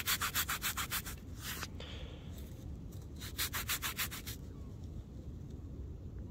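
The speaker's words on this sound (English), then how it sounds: "I'll give it a pants rub." A crusty, green-tinged New Zealand half penny rubbed briskly against trousers on coastal mudflats, giving two bursts of quick rhythmic scuffing strokes, close and fairly loud, over steady outdoor background noise.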